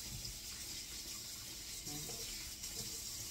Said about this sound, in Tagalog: yung ginagawa ko naman po dito, ay hinuhugasan ko po ulit yung karne